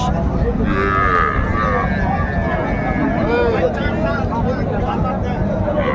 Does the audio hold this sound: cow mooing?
yes